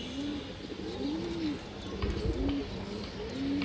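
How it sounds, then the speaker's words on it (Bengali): A female black pallar-line pigeon gives a string of clear, throaty coos nearby, each call swelling and falling in a steady repeating rhythm. "অনেক সুন্দর একটা মাদি কৌতার"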